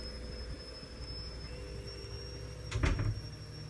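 A Hoover DXC C49W3 Dynamic Next washing machine runs in a kitchen with a steady, fairly loud drone and a faint high whine, plus a brief low rumbling knock near the end, heard from a little distance.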